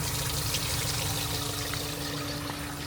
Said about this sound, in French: Là j'en profite pour faire la vidange. Vidange de l'eau grise.